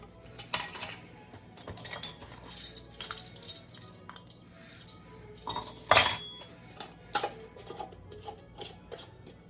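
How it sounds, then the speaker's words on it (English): Kitchen dishes clinking while a bowl is grabbed during poultry seasoning prep: close, scattered ceramic and metal clinks and knocks, one louder clatter midway, with quiet rustling between and no talk. "Let me grab a bowl."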